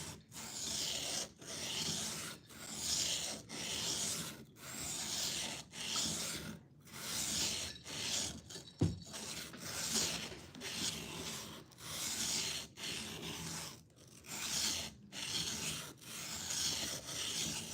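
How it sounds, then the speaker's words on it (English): A knife is sharpened on a sharpening stone, with rhythmic rasping strokes back and forth about once per second, close and steady, plus one sharp knock partway through. "just keep it on the stone right now and go back and forth because all we're trying to do is remove material till we get a burr"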